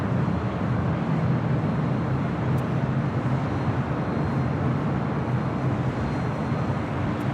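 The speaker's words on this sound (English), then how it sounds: "You're looking at Delta Airlines Flight 670 heading to JFK, 767-300ER" A Delta Airlines Boeing 767-300ER jet at LAX gives off a steady, loud, broadband roar that holds evenly throughout, with no voices over it.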